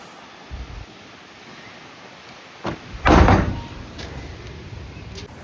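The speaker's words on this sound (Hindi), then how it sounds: "तूफान चल रहा है बाहर, बहुत भयंकर वाला।" Strong storm wind roars outside, and a door bangs sharply twice, the second hit louder and followed by a gusty rush of air, with steady blowing in the background.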